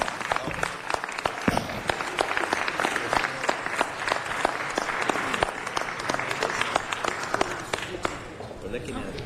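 Sustained, vigorous applause fills a Los Angeles city council chamber for nonprofit workers on Nonprofit Day, many hands clapping at once with a few sharper individual claps standing out throughout.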